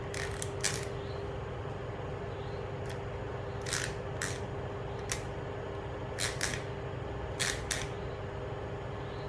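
The aperture mechanism of a cleaned Asahi Pentax Super Takumar 55mm f1.8 M42 lens clicks repeatedly, with sharp, close, quiet snaps in small irregular clusters over faint background hiss.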